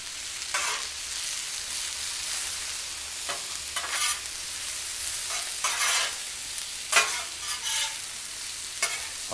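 Minced garlic sizzles on a hot Blackstone griddle as chicken quesadilla fillings cook, a steady hiss broken by scraping strokes of a spatula every second or so, close and fairly loud with no talking.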